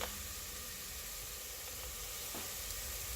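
Garlic sizzles with onion in a pan for spaghetti sauce, a faint steady frying hiss with a couple of soft clicks.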